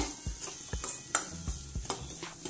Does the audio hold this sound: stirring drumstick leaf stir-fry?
yes